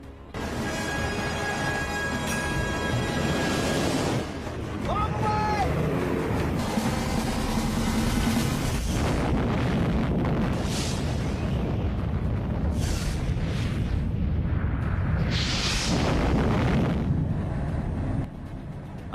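Rumbling blast of the atomic bomb dropped on Hiroshima, a loud sustained roar with dense low churning and swelling surges, heavily produced and continuous throughout.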